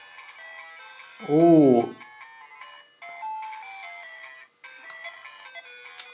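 Tetris music from Game Boy emulation on an ODROID GO ESP32 handheld, a thin chiptune melody playing faintly in the background, broken by a brief pause, with a short spoken exclamation loud over the start.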